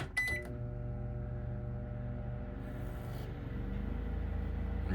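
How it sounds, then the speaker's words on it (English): A microwave oven powered by a portable generator hums steadily after a brief click and beep at the start, a low continuous drone that carries on alone throughout. "As you can see, the microwave's on."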